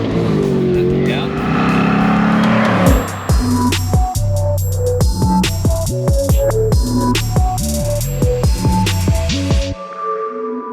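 A 2024 Ford Mustang GT RTR Spec 2 (S650) revs and accelerates hard, its loud engine climbing through repeated gear changes with tire squeal and revving, closing in a burst of high-pitched tire noise before cutting to near silence.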